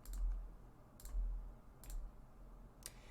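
Computer mouse clicking through an online form, four sharp single clicks spaced about a second apart, close and quiet over a faint room hum, with no talking.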